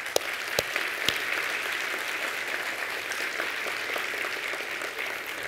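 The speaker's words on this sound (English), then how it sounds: "So let's give them a round of applause." Audience applause after a conference talk on porting games to virtual reality: a steady, even wash of many hands clapping, a few sharper claps popping out early, sustained throughout at moderate distance.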